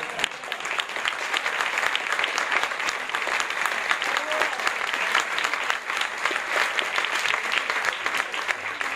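Steady audience applause fills the whole stretch, dense and even clapping from a crowd at a farewell event in Buenos Aires, with a faint voice briefly audible beneath it.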